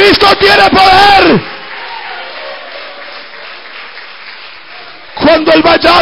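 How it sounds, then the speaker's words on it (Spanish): A church congregation applauds in a steady wash of clapping and crowd noise between loud bursts of shouted preaching at the start and end. "¿Cuánto pueden dar un aplauso a Cristo?"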